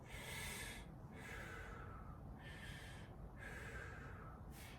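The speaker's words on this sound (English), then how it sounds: "a belly breath is with the diaphragm" Slow, deep diaphragmatic belly breaths, drawn in and let out in a steady repeating rhythm of about four cycles, close and airy with a soft rushing quality and no talk.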